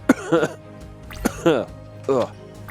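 A few harsh coughs close to the microphone, spaced out over a couple of seconds, with no talking in between.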